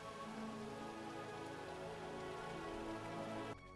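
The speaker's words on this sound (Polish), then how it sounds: "I jak widzicie ciągle leje" Steady rain pours in the survival game The Isle Evrima, a dense, even hiss of drops that carries on unbroken before cutting off abruptly near the end.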